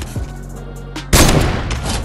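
A single loud, sharp sniper rifle shot in a video game, a sudden booming crack that decays with a ringing tail, preceded by quieter game sounds and no talking.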